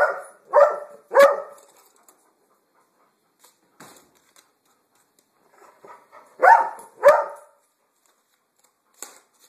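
A dog barks in two bursts, three sharp barks up front and two more later, close by and fairly loud, with quiet pauses and faint noises between.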